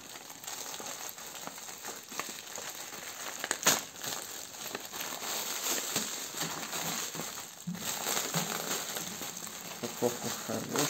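Plastic packaging bag from a toy kit crinkling and rustling steadily up close for several seconds, with a couple of sharper crackles along the way.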